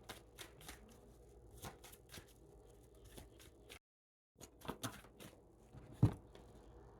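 Tarot cards shuffled by hand at close range, with quick riffling bursts and soft slaps, a short pause, then more shuffling ending in a sharper tap.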